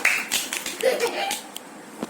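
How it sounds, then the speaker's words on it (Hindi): During a kids' quiz game modeled on KBC, a few quick hand claps ring out after a correct answer. The clapping comes in light, uneven bursts from a small group, with a voice faintly mixed in. "थोड़ा तालियां हो जाए"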